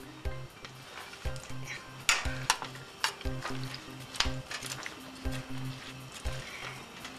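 Mushrooms and peppers for pepper steak sizzle in a pan while being stirred, with steady frying hiss, repeated scrapes and clinks of the utensil against the pan, and a low rhythmic hum running underneath.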